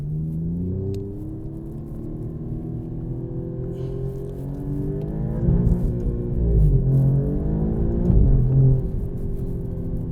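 Heard from inside, an Alfa Romeo Giulia QV accelerates with a deep, steady engine drone that climbs through rising pulls and gear shifts, swelling louder toward the end.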